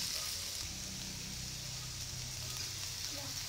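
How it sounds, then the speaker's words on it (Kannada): Carrot, capsicum and beans shallow frying in a pan at a roadside noodle stall, giving a steady, close sizzle that runs unbroken from start to finish, with no voices over it. "ನೆಕ್ಸ್ಟು ಕ್ಯಾರೆಟ್, ಹಾಗೆ ಕ್ಯಾಪ್ಸಿಕಮ್ ಮತ್ತು ಬೀನ್ಸ್ ಹಾಕೊಳ್ತಾ ಇದ್ದೀನಿ. ಇದನ್ನು ಅಷ್ಟೇ ಶಾಲೋ ಫ್ರೈ ಮಾಡ್ಕೊಬೇಕು"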